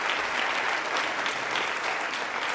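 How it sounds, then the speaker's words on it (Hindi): Steady applause from a quiz show audience at an International Women's Day event fills the whole stretch, dense and even with no voices. "तो तालियां आप सभी लोग जोर से बजाइए अपने लिए आज"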